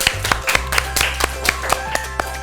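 A few people clap at a children's talent show, with sharp separate claps in a loose, uneven rhythm, plus a steady low hum underneath.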